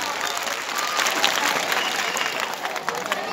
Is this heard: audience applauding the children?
yes